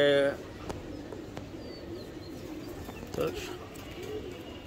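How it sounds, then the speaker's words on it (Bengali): Pigeons from a flying line at a loft, cooing in low repeated throaty calls close by, with a brief louder burst at the start and murmuring voices around them. "এটা একটা ছাড়াছাড়ি লাইনের কবুতর।"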